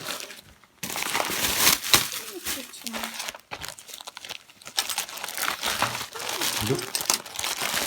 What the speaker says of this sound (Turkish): kargosunu açalım